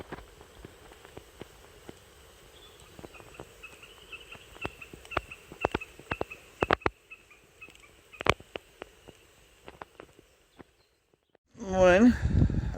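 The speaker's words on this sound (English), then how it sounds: "That's when all the birds are making a noise." Birds call at dusk as they settle to roost, sharp scattered chirps and clicks at moderate distance, ending in a louder burst of rising calls.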